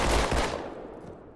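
Pistol shots from the video game Halo 2 crack out loudly at the start, then fade into a decaying echo and low ambient rumble.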